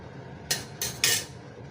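Jackfruit kesari mixture with sugar stirred in a pan, giving three short scraping clinks of a metal spoon against the pan, close and distinct, with quiet room noise between them.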